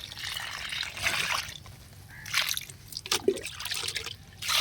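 Liquid fertilizer is poured onto a young native cucumber plant in summer, trickling and splashing in uneven spurts close by, with brief quieter gaps between pours.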